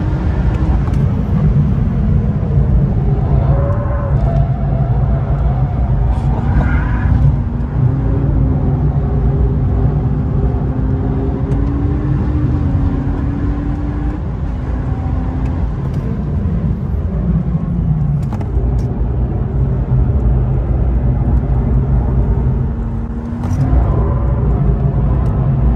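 Race car lapping the Spa-Francorchamps circuit, heard from on board as a loud, continuous engine roar whose pitch rises and falls with acceleration and shifting, with no talk over it.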